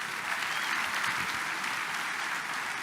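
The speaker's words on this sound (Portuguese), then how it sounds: "Vamos recebê-lo aí com aplauso." A church congregation applauds to welcome the pastor, a dense, even roar of many hands clapping throughout, loud and sustained with no break.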